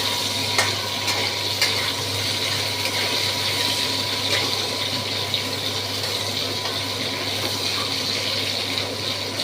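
Okra and potatoes fry in hot oil with a steady, close sizzle and bubbling hiss, punctuated by occasional stirring scrapes and a low background hum, with no voices.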